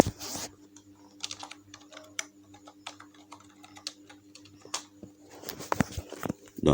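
Typing the word chapitre on a computer keyboard, a run of light, close, irregular key clicks with short pauses and a louder burst of keystrokes toward the end, with no talking over it.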